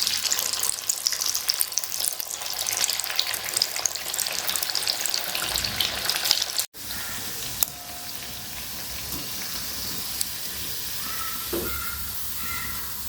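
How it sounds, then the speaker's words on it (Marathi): Alu vadi, colocasia leaf rolls, fry in hot oil with a dense crackling sizzle. It is loud at first, then drops suddenly to a quieter, steady hiss with occasional pops. "आता ह्याच पद्धतीने आपण सगळ्या वड्या तळून घेऊ."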